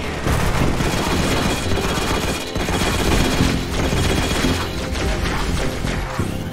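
Dense, loud bursts of rapid gunfire from enemy weapons picked up in the video game Halo: Spartan Strike, with crashing impacts layered over a busy battle and no speech.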